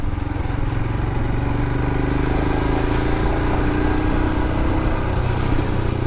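A Royal Enfield Himalayan motorcycle rides along narrow back lanes, its single-cylinder engine thumping loud and steady throughout with constant wind rush and no voices.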